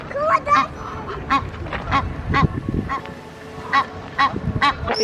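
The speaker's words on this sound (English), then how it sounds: "Little birds." Birds call outdoors on a sunny city walk, a run of repeated honking, goose-like cries spaced irregularly over steady background bustle, fairly close and loud.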